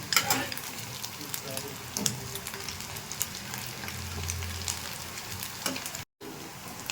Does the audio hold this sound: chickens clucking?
no